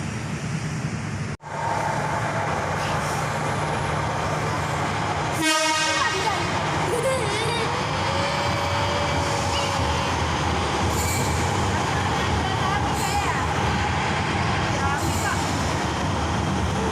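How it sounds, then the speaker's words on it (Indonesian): Steady rumble of a moving Palembang LRT light rail train in Indonesia from inside the car, with wheel squeal, a brief horn-like tone and a thump, under faint talk. "Suasana dalam kereta"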